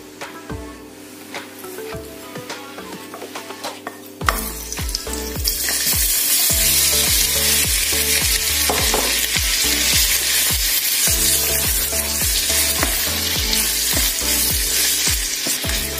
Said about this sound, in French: Et là, je vais faire d'abord revenir les crevettes.